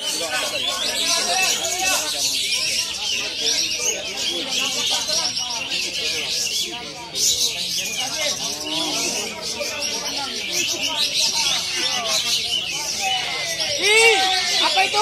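Songbirds chirp and trill continuously at a village bird-singing contest in Arga Makmur, Bengkulu, a dense bright chorus close by, with crowd babble and a voice talking underneath.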